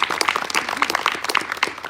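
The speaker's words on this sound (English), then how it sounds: "Another round of applause for her." Audience applause for a storyteller at a live showcase event in Botswana, a dense, steady clapping from a crowd lasting a couple of seconds with no speech over it.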